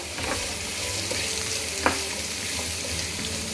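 Chopped radish and radish leaves stirred while frying in a pan on low heat, a steady close sizzle with a few soft spatula scrapes and one sharp clink, no voices.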